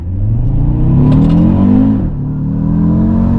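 An Audi RSQ3's engine revs hard and accelerates from inside the cabin, a loud rising growl that dips briefly and then builds again.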